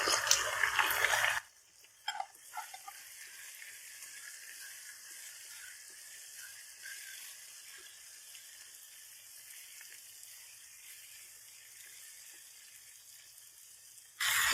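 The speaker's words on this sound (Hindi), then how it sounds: "मसाले को हमने 2 मिनट भून लिया है।" Ground coriander, turmeric and salt fry in hot oil in a pan for potato dish, opening with a loud stir and sizzle, then settling into a quiet steady hiss before a final stir bursts.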